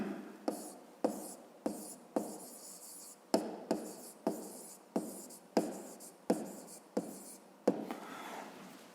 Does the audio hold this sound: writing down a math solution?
yes